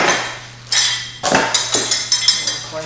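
Metal parts of a bench sander clink and clatter in a bag as they are handled, with several sharp knocks and rattles close up over a low hum.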